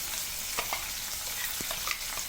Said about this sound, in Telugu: కొంచెం పచ్చివాసన పోయేంత వరకు ఆయిల్లో ఫ్రై చేసుకోవాలి